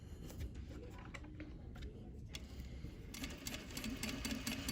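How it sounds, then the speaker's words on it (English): An industrial sewing machine back stitching fabric, running as a steady, fast mechanical rattle with a rapid ticking rhythm throughout, fairly close and alone, picking up slightly in intensity toward the end. "now I'm going to start stitching with my back stitch first"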